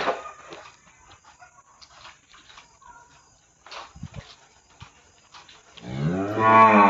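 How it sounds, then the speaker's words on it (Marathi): A cow of the ABS breed, large and freshly calved, lets out a loud, deep moo near the end, following quieter farmyard shuffling and low background noise. "ताजी खाली झालेली खाली प्युअर टॉप ओरिजिनल एबीएस जातीची गाय"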